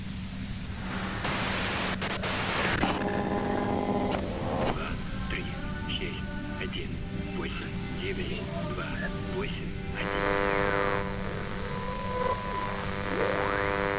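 White noise hisses in the video game Disco Elysium, a broad static wash that runs through the whole stretch while a voice speaks and electronic tones and game sounds rise and fall around it.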